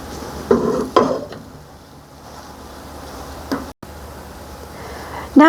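A spoon scrapes through raspberry sauce to work out the seeds, giving a few short, close scraping and clinking strokes separated by quieter stretches.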